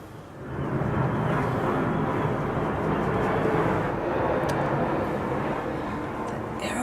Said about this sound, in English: Plane was really close.